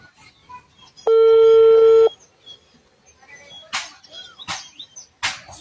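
A phone call ringing out with nobody answering: a single long electronic ring tone sounds clearly for about a second, followed by quieter gaps and a few short bursts of rustling noise.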